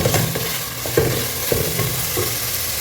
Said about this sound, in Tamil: மட்டன் போட்டாச்சு